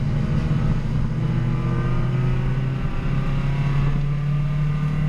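A Spec Miata-style SM2 race car circles a track during an MCSCC sprint race at easy warm-up speed, its engine droning steadily and close from inside the cabin with a sustained, even hum and slight pitch shifts.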